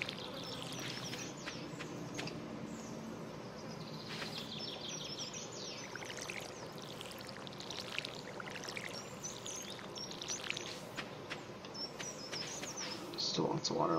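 Chirping birds in the farming game Stardew Valley on a summer day, light tweets scattered over a steady bed of flowing water and faint buzzing, with a low background murmur throughout.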